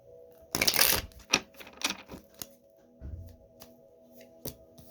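Tarot cards are shuffled close by in quick riffling bursts, followed by scattered soft taps and clicks as they settle.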